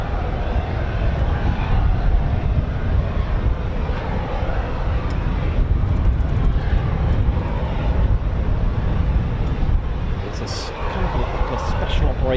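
An MH-47G Chinook special forces helicopter of the 160th SOAR, seen at RAF Odiham, gives off a continuous broad, rumbling roar that stays fairly even and loud for the whole stretch.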